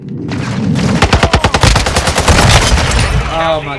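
A TAQ-V battle rifle firing in a video game, a loud close burst of rapid shots in a quick rhythm, followed by continued rumbling action and a brief voice toward the end.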